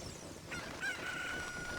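A chicken squawking and clucking in the Ocarina of Time video game, a brief thin cry sitting faintly within the steady hum of the game's background sound, with no talking.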